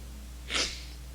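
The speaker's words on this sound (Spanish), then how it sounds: "Quería estornudar, pero no pude." A stifled, suppressed sneeze: a single short, breathy burst rising and fading within about half a second, moderately loud against a steady low hum, with no talking.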